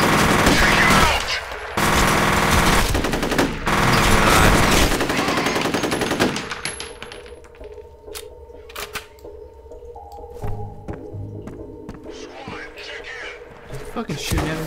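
Automatic gunfire in the F.E.A.R. video game, loud sustained bursts over the first six seconds, then scattered sharper shots and clicks with game ambience, while a player talks over it.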